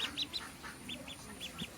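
Ducklings peep repeatedly in short, bright bursts while brooding under a hurricane lantern during cold, rainy weather; the calls come close and fairly faint in clusters over a low background hum.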